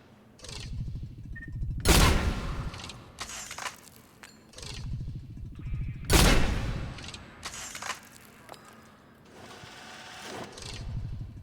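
Kishock gun fired at mid range in Mass Effect 3, two loud heavy blasts about four seconds apart, each followed by mechanical reload clatter and a low whirring hum.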